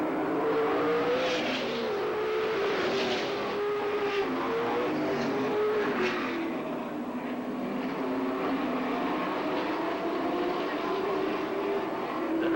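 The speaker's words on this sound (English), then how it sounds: "Jesse Rush running in 5th in car number 8 as we complete lap 13 this time by." Race cars lapping an oval track at speed, a steady loud engine roar with rising and falling whine as cars pass, continuous throughout under no talk.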